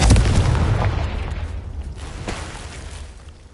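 A Confringo spell detonates in Hogwarts Legacy, a loud low boom that hits at once and then rumbles away over a few seconds with no talking.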